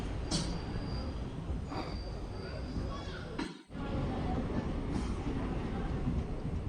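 An express train rumbles along steadily from inside a carriage, a constant low roar with a brief dip midway and faint occasional clicks.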